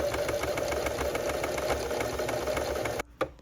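A sewing machine runs steadily as it stitches fabric strips together for a scrappy wallet, a continuous whirring drone for about three seconds that then cuts off, leaving a short soft clunk.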